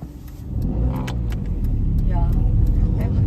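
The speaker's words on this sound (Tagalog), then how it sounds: "the bus is already here" A bus pulls up nearby, its engine rumbling low and steady beneath people talking, with a few light clinks scattered through.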